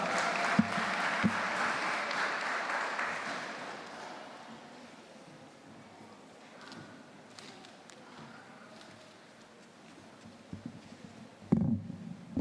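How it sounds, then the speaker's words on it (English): Audience applause for primary school debaters at an inter-school debating championship, a broad burst of clapping that is loudest at the start and fades over several seconds into quiet room noise. "Please give them a huge round of applause."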